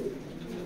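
A brief, close burst of low, rolling cooing from a raced pigeon pair in a loft, heard alone.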